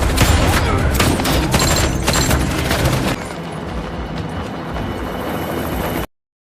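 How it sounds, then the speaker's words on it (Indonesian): A movie shootout at a harbor fills the clip with dense, continuous gunfire and bursts. The barrage is loud at first, then eases slightly before cutting off abruptly. "mereka harus terlibat aksi baku tembak yang seru dengan semua anak buah Victor yang berjaga di sekitar area pelabuhan"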